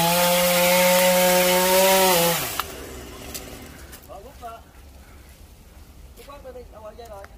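A loud chainsaw engine drone with steady harmonics runs for about two seconds while cutting a phoenix tree, then cuts off, leaving quieter rustling and scattered voices nearby.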